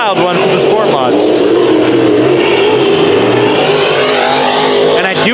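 Sport mod race cars roar around the dirt oval at Bakersfield Speedway to finish a heat race, engines loud and close with rising and falling revs as cars sweep past, a commentator talking over the din.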